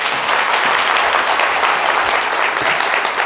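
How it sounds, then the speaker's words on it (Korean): An audience at a public lecture gives a hearty round of applause to welcome the speaker, a loud, even wash of clapping that fills the whole moment without pause. "뜨거운 박수 한번 부탁드리겠습니다"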